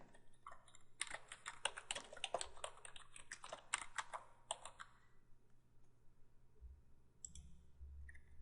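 Rapid typing on a computer keyboard for about four seconds, a dense run of close, crisp key clicks that then stops, followed by a couple of faint clicks and low thumps in a quiet room.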